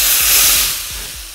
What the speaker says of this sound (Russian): И теперь поливаем вот этой заправкой суп.